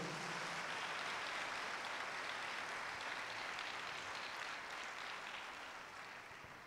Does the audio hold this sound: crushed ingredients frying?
no